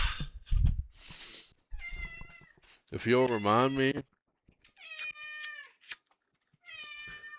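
A house cat meows several times, loud and close, with long drawn-out cries between bursts, while someone talks over and between them.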